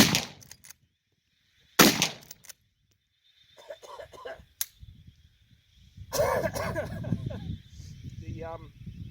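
A black powder rifle loaded with a round ball fires outdoors: one loud, sharp report cracks out close by, then trails off, while someone talks before and after the shot.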